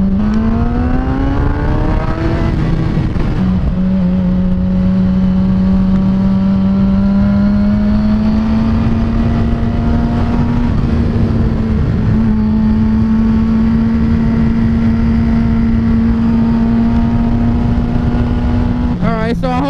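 A Suzuki GSX-R 750 motorcycle engine on a hard ride, loud and close, holding a steady high drone with rising revs, brief dips at gear changes and heavy wind rush underneath.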